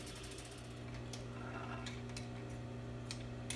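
Sewing machine stitching a seam at a 5/8 seam allowance, a quiet steady mechanical ticking and whirring running throughout, with no voices.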